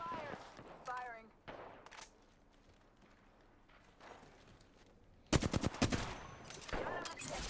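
Video game gunfire in a battle royale match, with bursts of rapid automatic shots: a short volley early, scattered single reports, then a dense loud barrage near the end, mixed with faint game sounds and occasional voice.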